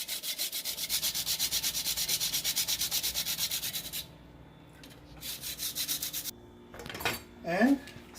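A whole nutmeg is grated for pumpkin pie in a quick run of even, rasping back-and-forth strokes, then a shorter second bout and a light clink near the end, close and clear, with no talk.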